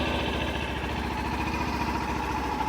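A Kawasaki Ninja 400 motorcycle engine runs at a steady idle nearby, a moderate, even, pulsing mechanical drone with no pauses over a few seconds.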